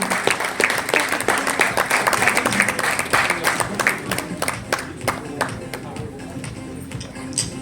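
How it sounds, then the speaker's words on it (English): Sustained applause from an audience at the launch ceremony of a women's handball league in India, dense clapping throughout with a few sharper individual claps, tapering slightly toward the end. "Big round of applause, everyone."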